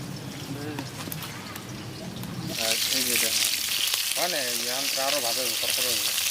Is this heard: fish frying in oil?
yes